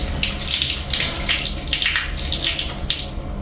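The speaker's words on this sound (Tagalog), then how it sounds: "Titisting naman natin yung shower." Shower water running steadily from a newly fixed shower head at strong pressure, a continuous hissing spray with gentle surges, close and alone with no talk.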